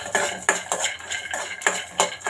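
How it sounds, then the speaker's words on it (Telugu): Peanut pieces dry roasting in a pan with no oil, stirred so a utensil clinks and scrapes against the metal in quick, irregular strokes, close and fairly loud, with no talking. "ఫస్ట్ ప్యాన్ పెట్టుకుని వేరుశనగ పలుకులు వేపుకుందాం"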